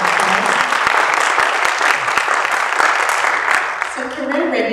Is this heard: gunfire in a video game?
no